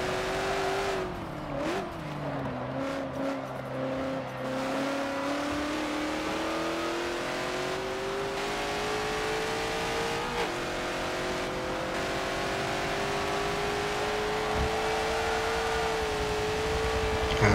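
Race cars in Forza Motorsport 7's Sport GT Icons class roar continuously, the engine revving and shifting pitch as the player's car accelerates past a rival, with a brief tire squeal early on; no talking.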